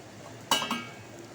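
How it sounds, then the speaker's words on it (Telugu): A metal lid set down on a pan of ivy gourd cooking with turmeric and salt, a single clear clink followed by a faint second rattle over quiet background. "మూత పెట్టాను"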